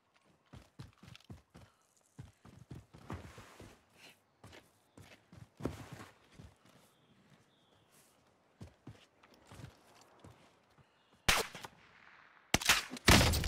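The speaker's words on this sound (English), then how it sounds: "Oh, I just got shot in the back of the head." Gunfire in the video game Warzone Caldera: sharp scattered shots and short bursts run throughout, with louder close bursts near the end. No one speaks.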